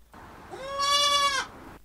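Goats bleat in a single drawn-out, wavering cry, close and clear, used as a storytelling sound effect for a farm scene; no one speaks over it.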